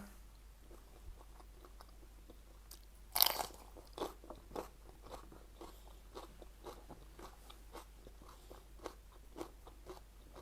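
Quiet, close crunching and chewing of a spicy chili herb salad with salmon and shrimp, one sharp bite followed by soft irregular chews.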